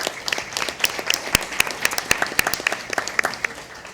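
An audience at a school board meeting applauds, a steady patter of many hands clapping close by for several seconds, with no talking over it.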